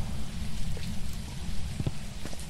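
Rain patters against a window inside a haunted house in the ghost-hunting game Phasmophobia, a steady close drizzle of small taps with a few heavier drops over a dense low rumble.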